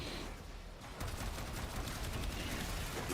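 Rapid gunfire from the compressor weapon in a video game, a dense, steady rattle of shots that starts softer and grows louder after the first second, with no talking.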